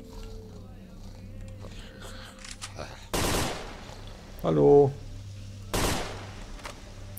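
Two sharp, loud bursts of gunfire in the video game S.T.A.L.K.E.R. Shadow of Chernobyl ring out a few seconds apart, with a brief spoken word and a short tonal sound between them over a low hum.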